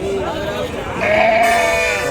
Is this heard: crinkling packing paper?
no